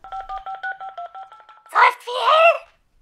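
Telephone keypad tones beep in a quick, regular run of about ten short notes at varying pitches, followed by a brief pause and a voice speaking.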